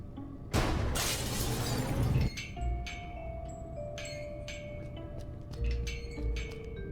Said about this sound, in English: I got rid of the glass above the door to the lab.